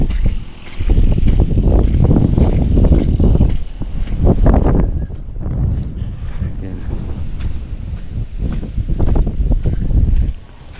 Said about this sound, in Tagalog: Lakas yung hangin ni Nando.